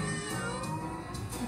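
A cat meows in a Halloween song, a clear tonal cry with a few short pulses near the start, close and alone against a soft background.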